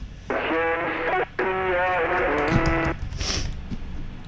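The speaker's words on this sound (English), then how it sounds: "It kind of just like simulates what I'd think like a broken radio would sound like" A distorted, buzzing tone simulating a broken radio chatters in stuttering bursts, then gives way to fainter crackly noise; no one speaks.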